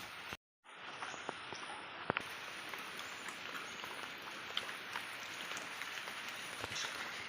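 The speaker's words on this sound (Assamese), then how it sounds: "বতৰটো সেই বৰষুণ দিয়ে আছে ভাই" Monsoon rain falls steadily over a rural Assam homestead and pond, a soft continuous hiss with scattered close drip clicks and faint insects chirping underneath, no talking.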